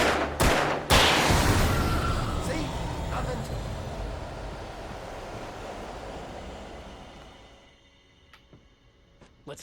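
A couple of loud gunshots from the video game Alan Wake Remastered open with a heavy blast, followed by a long rumbling roar that slowly fades, with a few faint clicks near the end.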